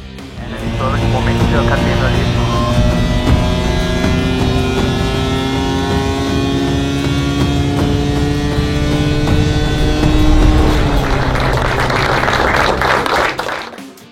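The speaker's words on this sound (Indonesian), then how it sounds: "memperlihatkan pengujian pertama mesin 850cc di atas dyno test" A powerful 850cc motorcycle engine on a dyno test drones steadily at high revs, its tone holding a sustained whine before shifting pitch near the end, loud and close throughout.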